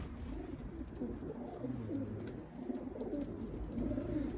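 Soft pigeon cooing repeats in low, rounded phrases throughout, with a steady background hum and no voices, at a pigeon coffeehouse in Gaziantep.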